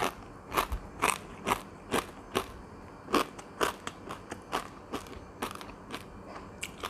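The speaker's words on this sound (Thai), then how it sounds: "ปลานี่คืออร่อยมาก กรอบมากอะ" Crisp bites and crunchy chewing of fried whitebait rice fish, a quick irregular series of sharp close crackles with short pauses between them and no talk.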